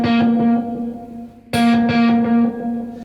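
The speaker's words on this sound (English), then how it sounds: "this basically controls the amount of degradation of the delay on each subsequent echo. So if I turn it all the way up," Guitar notes run through a delay pedal with the bite control turned fully up, so the repeating echoes stay clear with little degradation. Two loud strummed phrases trail into bright, sustained repeats.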